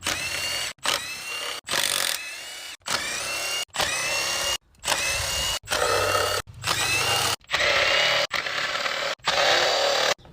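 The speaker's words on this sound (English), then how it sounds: "Now we've got an E10 driver because we need to take all these bolts out around the rotor cover." A power driver with an E10 socket spins out the rocker cover bolts on a Vauxhall Astra engine. It whirs in about a dozen short, loud bursts separated by brief pauses, and there is no talking.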